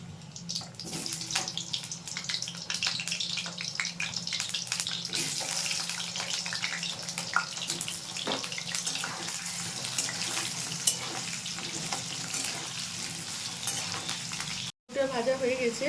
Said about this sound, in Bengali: প্রথমে আমি আলুগুলো ভেজে নেব। আলুগুলো দিয়ে দিচ্ছি।